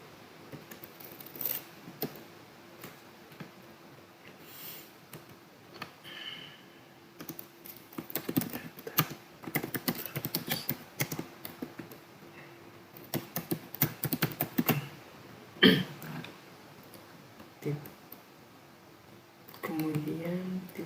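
Clattering computer keyboard typing arrives in irregular bursts of quick keystrokes with pauses between them, close and moderately loud, while a person talks intermittently over it.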